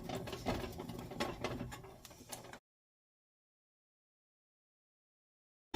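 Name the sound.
mixing homemade Payday candy mixture with vanilla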